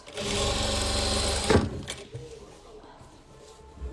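A sewing machine stitches patchwork quilt pieces, running in a loud steady whirring burst for about a second and a half and then stopping with a clunk. After that come quieter handling noises and faint room sound.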